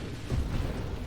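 Missiles bursting against a giant boss monster in the space shooter Nova Drift: a short, dense, rumbling blast with a heavy low thump near the middle, loud and alone.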